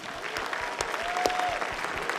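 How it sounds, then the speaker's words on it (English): Audience applause at a closing ceremony, a steady dense wash of clapping sustained throughout, moderately loud with a few sharper claps standing out. "You should all applaud for yourselves"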